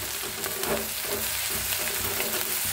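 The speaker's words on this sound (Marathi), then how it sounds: "कांदा भाजायला आलाय, त्याच्यातच लसूण आणि हिरवी मिरची बी भाजून घेऊया चांगली" Onion, garlic and green chili fry in a pan, giving a continuous, dense sizzle and crackle that stays close and steady, with faint stirring and no voices.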